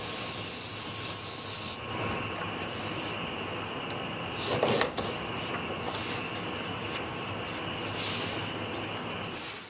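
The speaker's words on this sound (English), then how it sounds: "I'm using a little spray lacquer." Clear lacquer hisses from an aerosol spray can onto wooden storage crate parts, a steady close spray running continuously with a brief louder burst midway.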